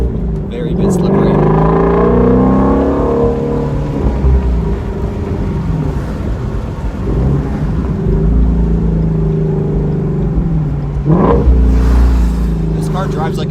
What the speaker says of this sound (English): This car drives like a V8 and acts like a V8